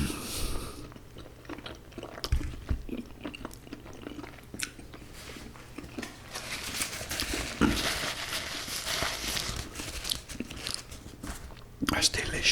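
Close-up crunching and chewing as fried chicken wings with mashed potato are eaten, with repeated bites and mouth sounds through most of the stretch and soft talk at times.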